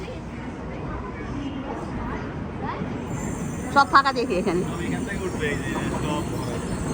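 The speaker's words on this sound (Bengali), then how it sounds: "আমাদের ট্রেন চলে আসছে এখন।" A train pulls into a station in Tokyo, Japan, a low rumble and hiss with a few brief squeals midway, heard beneath a person talking nearby.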